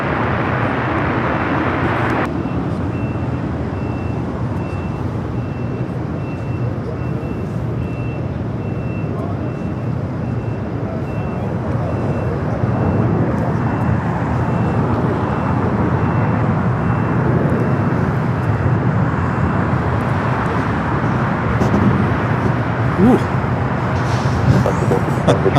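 An arriving Frontier Airbus A320neo from Las Vegas roars steadily on approach at LAX, a broad, loud, continuous jet rumble that swells slightly toward the end, with a faint high whine running through it and no speech.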